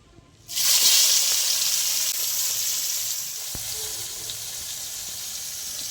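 Sliced onions dropped into hot oil burst into a loud, bright sizzle after a brief quiet start, then settle into a steady hiss that slowly softens while the birista fries.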